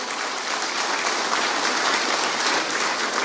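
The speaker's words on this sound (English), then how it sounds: "put your hands together and give the loudest applause you possibly can after 3" A loud, dense wave of audience applause fills the hall at an accordion band's 75th anniversary event, continuous and close throughout.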